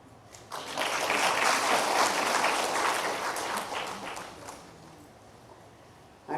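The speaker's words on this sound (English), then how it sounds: "You should clap." An audience claps together at a health talk on millet-based living, a dense burst of applause that swells quickly, holds steady for several seconds, then thins out and fades toward the end.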